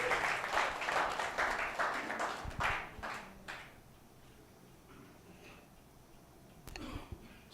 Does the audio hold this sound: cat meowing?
no